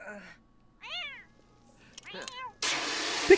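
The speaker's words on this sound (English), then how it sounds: "The cat!" A cat gives several short, close meows spaced apart, followed by a burst of broadband rustling noise.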